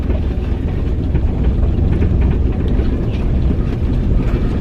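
Car engine idling after timing, valve and distributor adjustments, still running rough; a steady, loud, low rumble drones on without a break.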